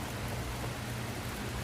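Heavy summer monsoon rain pouring down outdoors, a dense, steady hiss of drops that stays even and loud from start to finish, with no voices.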